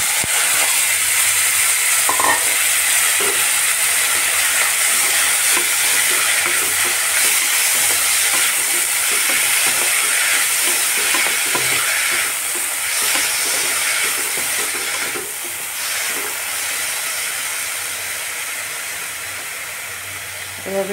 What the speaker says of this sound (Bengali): তেল গরম হয়ে গেছে, নুন হলুদ মাখিয়ে রাখা চিংড়ি মাছ দিয়ে দিচ্ছি।